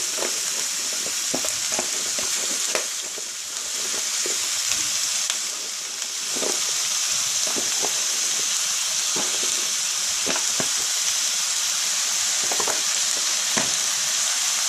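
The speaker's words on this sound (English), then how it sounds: "I'm going to add these onions. Let these sweat down a bit" Onions sweat down in a hot pan for a chicken and vegetable casserole, sending up a steady close sizzle and hiss with occasional scraping stirs and small crackles throughout, alone without any voices.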